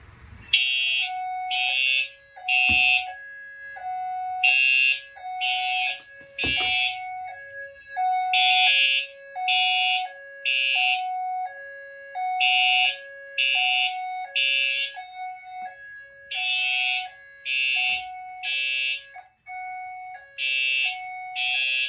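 A Fire-Lite MS-9600UDLS fire alarm system sounds after an H355 detector is activated, giving a loud electronic alarm tone. It repeats in an even pulsing pattern, the same rhythmic bursts recurring for the whole stretch with no talking.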